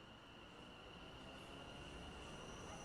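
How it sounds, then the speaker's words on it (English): Class 710 electric train in TfL livery arriving at a station platform in a train simulator game on the Gospel Oak to Barking Riverside line, a steady loud rumble of wheels and carriages with high squealing tones throughout. "Your train will arrive shortly."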